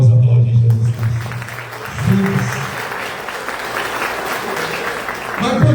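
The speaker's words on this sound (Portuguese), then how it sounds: "Vamos aplaudir Jesus Cristo." A church congregation at a Mother's Day mass applauds in a steady wash of clapping that holds for several seconds, with a voice speaking over the start and end.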